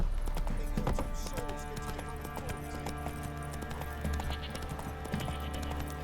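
Roach, the horse in The Witcher 3, gallops with a continuous rhythmic clatter of hooves under a bed of game ambience, steady and moderately loud throughout.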